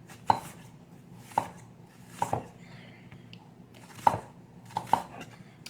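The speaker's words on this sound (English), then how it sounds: "I'm going to take that tip off, and I'm just going to slice down across horizontally" An onion being sliced thinly by knife on a cutting board, six sharp separate chops at uneven intervals over a quiet room, no speech.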